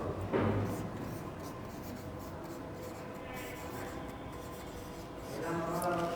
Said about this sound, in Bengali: দেখো আমি একটু অক্সিলারি ভার্বগুলো লিখি